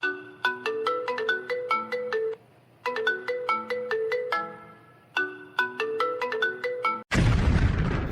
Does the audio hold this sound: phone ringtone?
yes